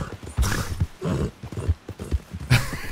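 Horse hooves clip-clop in an irregular series of hollow knocks, fairly close, with a brief whinny-like tone near the end, from a white horse in the video game Red Dead Redemption 2.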